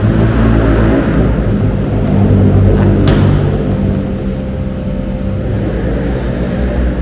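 Air suspension on a Tesla Model 3 raising the car: a loud, continuous mechanical hum and whir that holds steady for several seconds, heard up close without talk.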